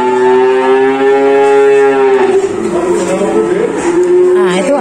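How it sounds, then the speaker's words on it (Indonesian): A Javanese PO cow at a cattle dealer lets out a loud, close moo, a long drawn call that wavers and continues for several seconds. "Nah itu ada sapi PO itu teman-teman, sapi Jawa."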